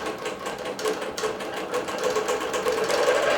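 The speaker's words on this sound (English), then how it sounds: "Quilting with poly sheen thread." A quilting machine stitches with poly sheen thread, giving a continuous, steady mechanical whirr with a rapid rhythmic needle chatter, close and even in level.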